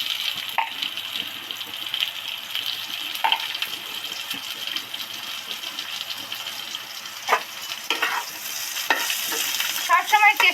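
Steady hiss of onions frying in hot oil after garlic, with scattered crackles and a few utensil scrapes and clinks, loud and close, growing busier near the end.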